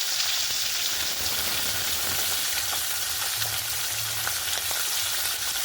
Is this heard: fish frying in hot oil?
yes